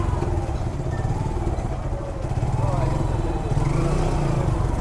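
Suzuki Gixxer motorcycle threading through tight, crowded traffic, a loud continuous engine drone with a slight rise in revs toward the end, heard close with traffic noise around it.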